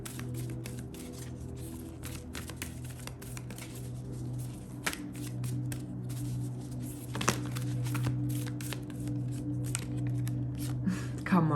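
Repeated shuffling of a tarot deck with crisp riffles and soft slaps, close and steady, over a low continuous hum.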